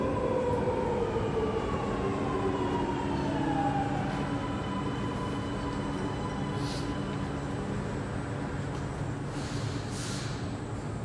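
Sydney Metro train arriving at Castle Hill platform, a steady loud rumble of the train with a falling whine as it slows, continuous throughout with faint chimes near the end.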